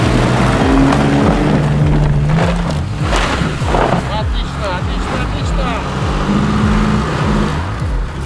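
A car, Toyota Prado or Audi, accelerates hard under a loud, rising engine roar with stepping pitch through the gears, close and continuous, with people talking over it.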